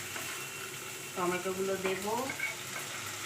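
Chopped tomatoes go into frying onions with ginger-garlic paste in a pan for an egg curry, a steady sizzle with scraping stir strokes beneath a voice speaking Bengali.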